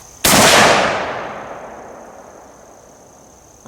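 A single loud shot from an SVD marksman rifle fired outdoors, a sharp crack followed by a long rolling echo that fades over several seconds.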